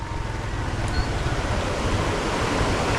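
Large floodwater rushes past in a continuous, heavy roar with some gusty wind noise, sounding close and steady throughout.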